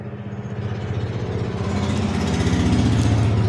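A sewing machine runs steadily, stitching a kurti neckline on fabric, with a fast mechanical whirr that grows a little louder and denser partway through, alone with no talk.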